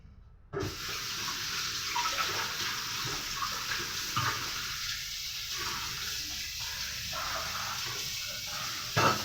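Running tap water pours steadily over food being washed in a home kitchen while an omelette is prepared, a close, even rush that starts abruptly and continues without talk.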